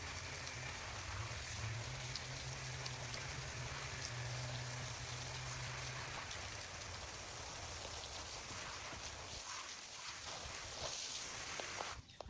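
A steady, hissing spray of water from a garden sprinkler, continuous and fairly close, with a soft patter like rainfall.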